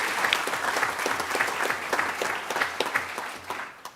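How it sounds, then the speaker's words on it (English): A round of applause at a county commission meeting, moderate clapping from a modest room of people with individual claps distinct, steady for a few seconds before tapering off at the end. "we could give them a round of applause"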